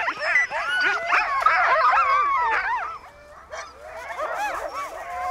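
Greenland husky sled dogs eager to run, a pack yipping, barking and howling together in a loud overlapping chorus nearby, briefly easing then rising again.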